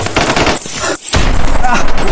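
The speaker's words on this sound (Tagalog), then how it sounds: "May sniper si Babo. Dapa mo, dapa, dapa" Rapid bursts of sniper gunfire crackle loudly and densely, with a brief lull in the middle before the barrage resumes; shouting voices are mixed in under the shots.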